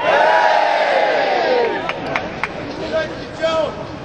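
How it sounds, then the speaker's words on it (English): At a climate rally in London, a crowd of voices yells and cheers together in one loud swell that tails off into scattered shouts and murmuring. "the first one I think will probably be a cheer"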